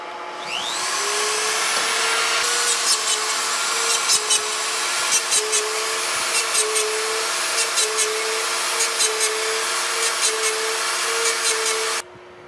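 A lathe converted into a cylindrical grinder running a light grind at slow workpiece speed: a steady high whine with a constant tone, overlaid by regular faint ticking contacts, stopping abruptly near the end.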